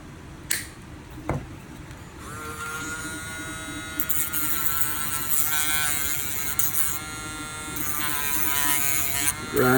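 A power grinder cuts away part of an animatronic figure in a workshop, a loud, steady whine that holds for several seconds with a few sharp clicks at the start.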